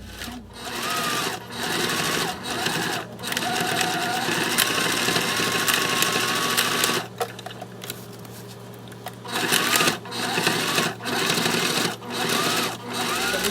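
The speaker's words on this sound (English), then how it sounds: "we're going to go ahead and sew from the bottom up and right back down the middle of all of this" A sewing machine stitches a pocket for a ladies' wallet, running in a loud, steady, fast mechanical chatter, stopping briefly now and then before it starts again.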